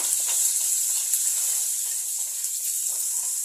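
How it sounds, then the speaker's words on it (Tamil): Ten cloves of crushed garlic sizzle and spit in hot oil with tempered mustard seeds, urad dal and cumin, a steady bright frying hiss with small pops, close and continuous. "இந்த பூண்டு கொஞ்சம் லைட்டாக ஃப்ரை பண்ணிக்கலாம்"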